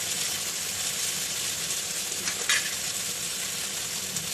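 Tender okra (bhindi) frying in a pan gives a close, even sizzle that runs without a break, with one brief clatter partway through and no talk.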